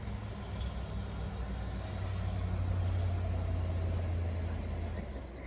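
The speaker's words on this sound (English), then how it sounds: "here comes the UPS truck" A UPS delivery truck passing on a residential street, a low engine rumble that swells and then fades over several seconds.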